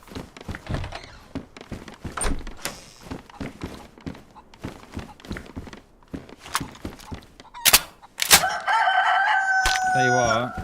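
A chicken crows and clucks in the video game DayZ over a run of rhythmic thumps, rising into a loud, drawn-out cock-a-doodle-doo near the end, close and prominent.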